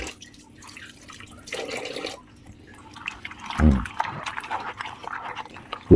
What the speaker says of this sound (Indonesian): Cuci tangan dulu sebentar.